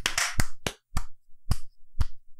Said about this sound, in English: 3, 2, 1, clap.